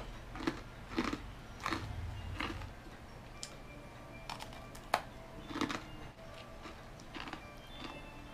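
Crunchy cone holding matcha soft-serve ice cream bitten and chewed at a tea shop in Iga, Mie, with several close crisp crunches and chewing in bursts, no talking.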